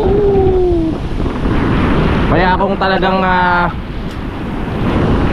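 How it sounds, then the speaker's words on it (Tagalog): Strong waves surge at the shore under gusty wind buffeting the microphone, forming a constant loud roar while someone speaks over it. "So, ganito kalakas ang alon ngayon mga kapanalig."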